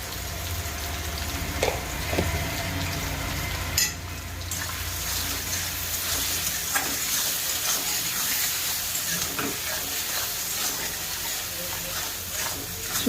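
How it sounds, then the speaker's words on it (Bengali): Diced potatoes fry in a pan with salt and turmeric, giving a steady close sizzle and crackle that holds throughout, broken by a few clanks of a utensil against the pan. "আলুগুলোকে আমি সুন্দর করে একটু ভেজে নিয়েছি"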